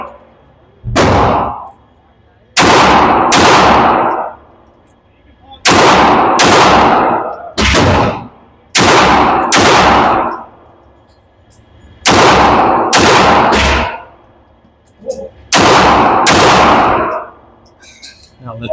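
Loud gunshots from a Vulcan firearm at an outdoor shooting range, fired in several rapid bursts of two to four shots each, separated by short pauses.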